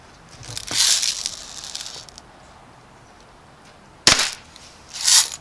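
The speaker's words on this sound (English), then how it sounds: "That made a little bit of a pop, didn't it?" A BB rifle fires at bubble packaging being plinked for recycling, giving sharp short pops with brief crackling bursts, three distinct hits spread over a few seconds, fairly close.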